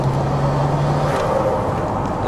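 A Nissan Skyline GT-R R34 V-Spec II, fitted with a Nürburgring edition hood, cruises at low highway speed, its engine a steady, loud, close drone blended with road and wind noise and no talk.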